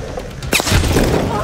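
Gunfire in Call of Duty: Advanced Warfare, a quiet lead-in followed by a sudden loud burst of shots that turns into sustained, dense firing.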